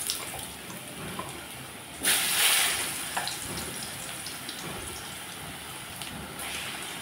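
Potatoes drop into hot mustard oil tempered with nigella seeds, a sudden loud sizzling hiss bursting out and then settling into a quieter, continuous frying crackle.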